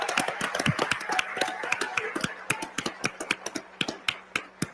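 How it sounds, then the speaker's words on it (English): Audience applause at CPAC, a conservative political conference in Washington: a fading crowd clap that thins into scattered, sharp individual claps standing out one by one toward the end. "Let's give them a round of applause."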